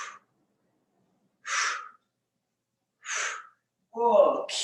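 Deep breaths drawn during a core and stretch workout, three separate breathy bursts about a second and a half apart and then a longer, rougher exhale. Each stands alone against silence.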